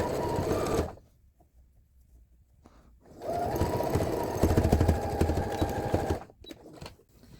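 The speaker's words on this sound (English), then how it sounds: "So we can go ahead and finish sewing it together" A sewing machine stitches a T-shirt together in two bursts, a loud, steady mechanical whirr for about a second, a pause, then a longer run of about three seconds.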